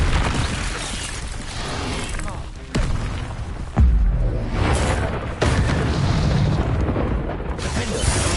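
Booming magical blasts of the Bombarda explosion spell in a Hogwarts video game, with heavy thuds at intervals amid continuous game noise and talking.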